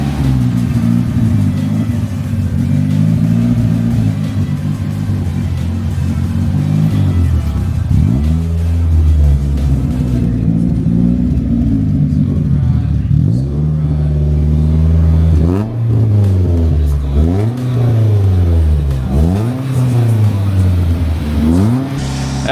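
A Nissan 180SX engine running close by, loud and rough, revving up and down in repeated swells that climb and fall more quickly toward the end.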